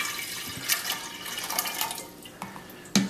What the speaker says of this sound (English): now I'm going to pour water into the tank.